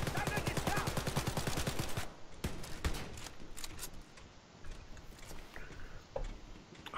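Rapid automatic gunfire from a weapon in Wolfenstein: Youngblood, a dense burst of evenly spaced loud shots followed by scattered single shots and impacts, close and punchy with occasional voices underneath.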